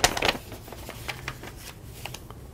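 A sheet of paper being handled and folded, crisp rustles and crinkles up close, with a louder burst at the start and then scattered lighter creases and taps.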